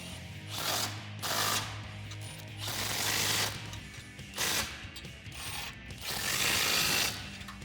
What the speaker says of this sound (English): For the top 4 bolts, I'm going to be using an 18mm deep socket and an 18mm wrench.